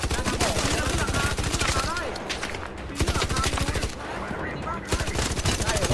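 Rapid bursts of automatic gunfire rattle loudly and almost continuously, with brief pauses between volleys, during combat in the video game ARC Raiders.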